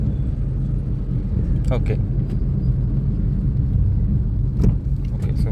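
A car engine hums through a gear change during a driving lesson, a steady close rumble inside the cabin with a couple of brief clicks, while an instructor speaks briefly over it.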